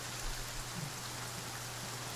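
Rain in the survival video game The Flame in the Flood makes a steady, soft, even hiss with a faint low hum beneath it and no other sounds.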